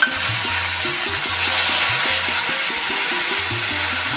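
Ginger, garlic and green chili paste sizzles steadily in hot oil with onions already fried red, a loud continuous hiss with a low, rhythmic scraping pulse of stirring running throughout.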